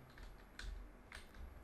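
Computer keyboard keys clatter during a Brawl Stars match, a quiet burst of a few quick clicks in pairs, near but faint over a low background hum.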